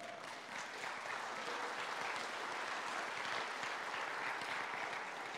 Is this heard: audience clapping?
yes